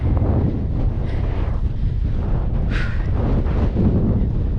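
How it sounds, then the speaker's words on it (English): Strong wind buffets the microphone on a winter mountain hike in Scotland, a loud steady rumble with faint higher whistles passing through. "The wind is picking up as well"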